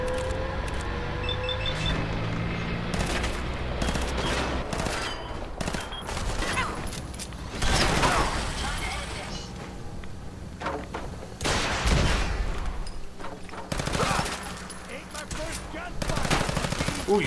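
Gunfire and missiles in the video game Fallout crackle in dense bursts and fusillades, loud repeated volleys with sharp blasts near 8, 12 and 14 seconds, while a player talks faintly in places.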